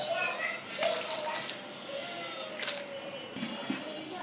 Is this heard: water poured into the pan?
yes